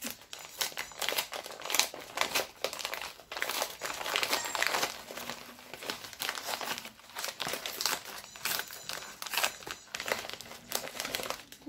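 A mail parcel is opened by hand, producing close, repeated bursts of paper crinkling and rustling with brief pauses between handfuls.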